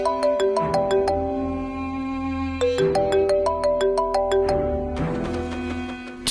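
A telephone ringtone plays a bright melodic jingle of repeating note patterns, close and clear, cycling twice with no talking over it.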